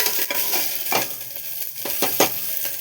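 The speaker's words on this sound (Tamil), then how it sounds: "பச்சை மிளகாய் போட்டு 2 வதக்கி விட்டுருவோம்" Green chillies being sautéed in a pan, with a constant frying hiss up close and several sharp scraping stirs and metallic clinks of a spatula against the pan.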